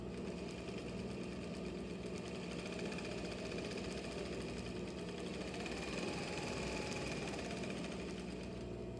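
A Singer industrial sewing machine runs steadily as it stitches a regular seam through fabric, giving a continuous close mechanical hum and rapid needle chatter that holds an even level throughout with no pauses.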